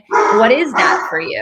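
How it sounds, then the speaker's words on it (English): Big mastiff dog barking indoors, a couple of loud, deep, drawn-out woofs with a whining edge, close to the microphone, while a person talks over them. "So I'm sorry about my dog."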